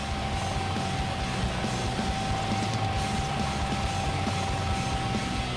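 A helicopter in flight, heard from inside the cabin, gives a steady loud rumbling drone with a constant whine and no talking.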